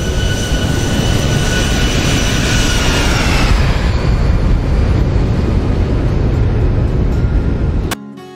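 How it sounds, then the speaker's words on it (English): A simulated Boeing 737-800 airliner in X-Plane 12 makes a loud, sustained flyby, its jet engine roar and whine rising and then sliding down in pitch as it passes, before cutting off abruptly. "Let's see if we can get a little flyby."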